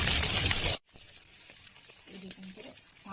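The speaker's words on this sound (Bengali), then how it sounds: "সাইডে 5 ফোড়ন দিয়ে দিচ্ছি" Panch phoron five-spice seeds hit hot oil at the side of a pan while a magur fish dish cooks, giving a loud, dense sizzle for under a second before dropping to quiet kitchen noise.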